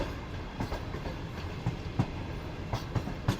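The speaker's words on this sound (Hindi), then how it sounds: "तो ये हसीसा रेलवे स्टेशन से गुजर रही है ट्रेन इस वक्त हमारी।" A passenger train on the Thar Desert Safari line in Pakistan runs on rails with a steady rumble, its wheels clacking over rail joints in irregular beats, heard from inside the carriage.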